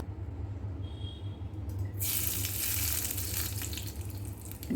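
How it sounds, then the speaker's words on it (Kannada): Mustard seeds and curry leaves hit hot oil for a Mangalore cucumber sour curry. After a quiet start, a sudden loud, close sizzle bursts out and keeps hissing to the end, with no voices. "ಇವಾಗ ಇದಕ್ಕೆ ಸಾಸಿವೆ ಮತ್ತು ಒಗ್ಗರಣೆ ಸೊಪ್ಪಲ್ಲಿ ಮಾತ್ರ ಒಗ್ಗರಣೆ ಹಾಕೋದು"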